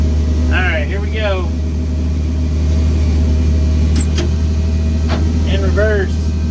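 Steady, loud idle rumble of a 5-speed manual forklift engine running throughout, with someone speaking briefly over it and a few faint clicks as it prepares to set off.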